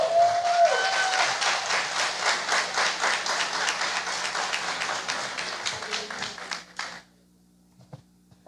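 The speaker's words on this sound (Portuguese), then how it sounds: "vamos recebê-los com uma salva de palmas" A church congregation during a worship service gives a warm round of applause, with claps falling into a loose rhythm for about seven seconds before stopping abruptly into near silence.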